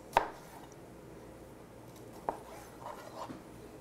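Food is cut into chunky pieces with a kitchen knife on a board, with two distinct chopping knocks spaced apart and a few softer cuts afterward in a quiet room.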